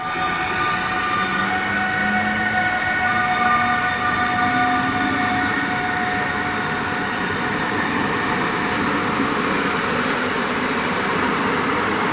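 A loud electric passenger train rolls past steadily at Tarnów, Poland, with a droning motor hum and rumbling wheels that hold for the whole stretch, no voices.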